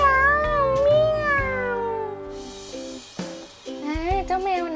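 A high voice imitates a kitten meowing, giving a couple of drawn-out, sliding meows amid spoken Thai, close and fairly loud over faint background music.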